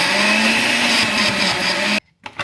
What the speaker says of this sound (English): My blender sucks so bad.